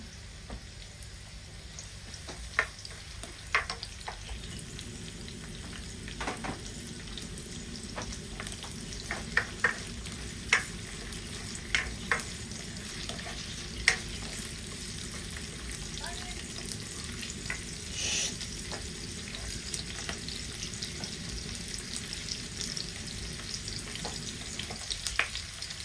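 Onions sauté in a pan for ginisang batong with sayote, a soft steady sizzle broken by repeated sharp scraping and tapping of a spatula stirring, with no voices.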